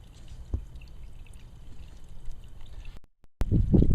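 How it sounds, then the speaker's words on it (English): Gasoline pours and splashes out of the crankcase of a John Deere STX38 Hydro lawn tractor, a faint trickle at first, then a sudden loud, close gush of liquid after a brief silence. "Draining all the gasoline out of the crankcase."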